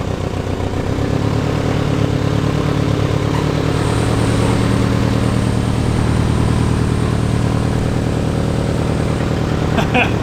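A 450cc twin-cylinder engine fitted to a push lawn mower runs steadily nearby, a continuous throbbing mid-pitched drone with rattling clatter, holding roughly constant loudness throughout.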